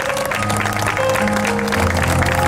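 Steady audience applause at a community event in Lanusei, Sardinia, a continuous dense patter of many hands clapping with a faint tonal hum beneath.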